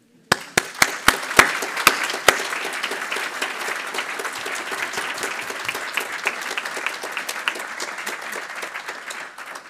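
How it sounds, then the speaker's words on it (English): Applause from a conference audience at a high-level event marking ten years of the European Alliance for Apprenticeships: a few separate claps open it, then steady, dense clapping fills the room and slowly thins near the end. "I would suppose we applaud, not for me, but for 10 years of the Alliance"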